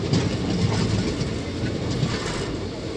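Clickety-clack of a moving passenger train near Kaikaluru station on the Narasapur–Vijayawada line, a steady loud rumble with rhythmic wheel knocks heard from onboard.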